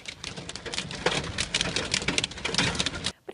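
Heavy rain patters densely on surfaces, a steady close hiss of drops with brief irregular swells before cutting off abruptly.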